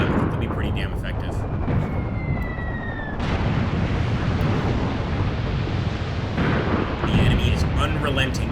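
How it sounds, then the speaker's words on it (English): Relentless artillery barrage in the wartime tactics game Graviteam Tactics: Mius Front, a continuous heavy roar of explosions with rumbling blasts and a brief descending whistle, loud and dense throughout, with a narrator talking over it. "Unrelenting, absolutely unrelenting with their artillery fire."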